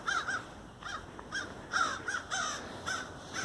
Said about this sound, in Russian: Птицы кричат.